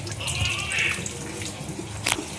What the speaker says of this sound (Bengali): এই দেখো দুলু চিকেনটা ধুয়ে দিচ্ছে।